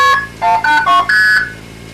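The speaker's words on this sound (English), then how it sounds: "The 800 number is dialed with normal touch tones." A quick run of telephone touch tones dials an 800 number, several short beeps of differing pitch in brisk succession, loud and clear with nothing else heard.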